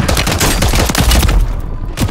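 Rapid bursts of Warzone gunfire, a string of close, sharp shots in quick succession that trails off into a couple of final pops.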